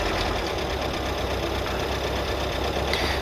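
A Ford Cortina Mk3 estate's 1300 engine ticks over at a steady idle, an even mechanical patter with light tappet-like clatter running unbroken and close by.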